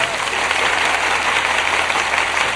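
Self-applause from one person: brisk, sustained hand clapping, close up and steady in loudness throughout, with a faint voice underneath.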